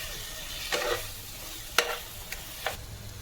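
Mutton sautéing in a pan for spicy mutton sukha, with a steady sizzle underneath and a few sharp scrapes and clinks of a spoon stirring, close and clear, without talking.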